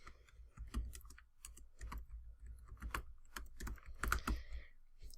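Typing on a computer keyboard, a quiet close stream of irregular key clicks in short bursts with brief pauses, alone without talk.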